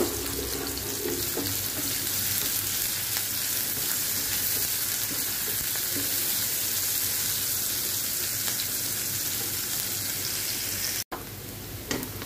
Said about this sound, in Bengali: পেঁয়াজটাকে আমি এখন হাফ ফ্রাই করে নেব।